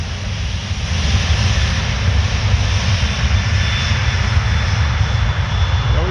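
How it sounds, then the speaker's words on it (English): A jet airliner at Paris Orly spools up to full power for its takeoff roll, giving a loud, steady engine roar with a deep rumble that holds constant throughout. "and is going to accelerate shortly for takeoff."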